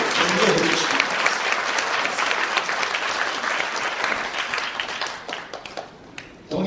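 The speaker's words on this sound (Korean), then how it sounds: "다시 한번 박수로 격려해 주십니다." A large crowd at a conservative political gathering in a hotel applauds steadily and loudly, the clapping thinning slightly before swelling again at the end.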